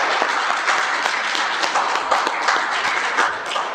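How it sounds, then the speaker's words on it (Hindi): A group of children at a yoga session claps together, a dense, brisk patter of many small hands that stays fairly loud and continuous for a few seconds. "चलो एक बार तालियों के साथ"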